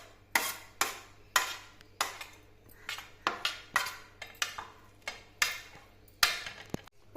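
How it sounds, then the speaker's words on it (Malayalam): A spoon clacks against a bowl again and again while vegetables, corn, cheese and paneer are mixed, bursts of sharp knocks in an uneven rhythm, close and fairly loud with no voices. "ഇതെല്ലാം ഒരു ബൗളിലേക്ക് ഇട്ടിട്ട് നമുക്കൊന്ന് നന്നായിട്ട് മിക്സ് ചെയ്ത് കൊടുക്കണം"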